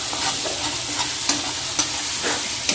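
Four fish pieces, one a tail piece, fry in a pan with a bright, steady sizzle, punctuated by a few soft clinks and scrapes of turning, no voices.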